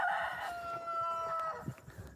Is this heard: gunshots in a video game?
no